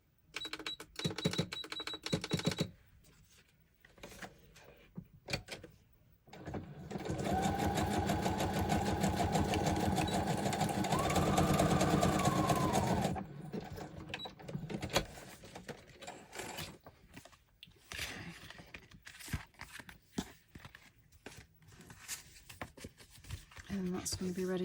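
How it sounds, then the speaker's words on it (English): A sewing machine stitches across a paper file folder with a steady mechanical whirring run of several seconds, quick clicks and handling noises around it, and a person talking before and after. "Just run a quick stitch across there."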